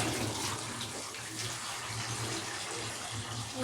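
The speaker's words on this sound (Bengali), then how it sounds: "এই তো পরিমাণ মতো পানি দিয়ে দিব এখন।" Water pours steadily into a pot for Bangladeshi nihari in a continuous close gushing rush with no breaks, and a faint voice sits under it.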